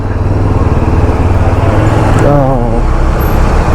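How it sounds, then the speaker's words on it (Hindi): Many vehicles entering a mountain road together near Lachen in Sikkim, a steady close rumble of engines and road noise with a brief horn-like tonal sound partway through. "अभी सारी गाड़ियां एंटर कर रही है एक साथ, इसलिए थोड़ा ट्रैफिक है"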